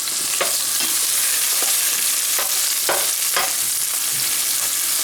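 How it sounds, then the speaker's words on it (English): Ground ginger and other spices sizzle steadily in a hot pan, with a constant crackling hiss and a few scraping stirs of a utensil. "Fry this just for a couple of minutes to bring out the flavours."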